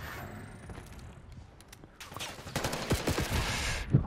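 Rapid bursts of video game gunfire crackle in a fusillade, building louder toward the end with a sharp shot near the close, heard on their own without talk.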